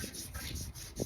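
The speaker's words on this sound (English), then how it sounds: "If you want to take a piece of sandpaper, you want to clean up any burrs or impurities or stuff that got on the end here" Sandpaper scrubs burrs off the cut end of a pipe for a chicken mister system, a quick series of close, soft rubbing strokes with no talking.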